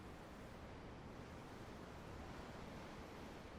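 Steady ocean surf surrounds a boat in Tales of Arise, a dense, unbroken wash of waves and wind at an even, moderate level with no other sounds.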